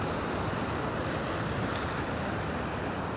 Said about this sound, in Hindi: यहाँ पर थोड़ी लहरें बन रही हैं